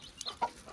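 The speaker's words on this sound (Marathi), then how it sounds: "कोंबडी काय खातायत बघ." Hens and chicks on a village farm in the Konkan cluck in two short, close calls, one a brief chirp and another a slightly louder cluck, over quiet outdoor background.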